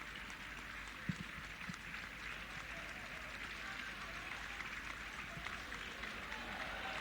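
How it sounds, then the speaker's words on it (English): Football crowd at a women's international match between Nigeria and South Africa applauding a player leaving the field, a distant steady patter of clapping heard faintly under a commentator's speech. "Now the Nigerian fans very graciously clapping Salgado off the field."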